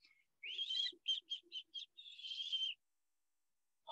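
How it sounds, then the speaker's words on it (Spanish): A nightingale sings in a forest clearing, a clear whistled phrase of rising notes followed by a quick run of short chirps and a final sustained trill, close and alone in silence. "En un claro del bosque, el ruiseñor empezó a cantar."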